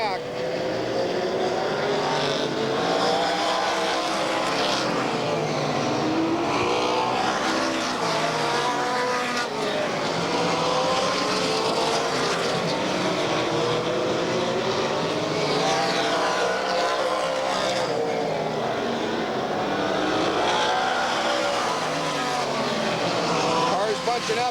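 Stock cars race around Redwood Empire Raceway (Ukiah Speedway), a continuous loud roar of engines as the pack bunches up and passes, with sweeping rises and falls in pitch throughout.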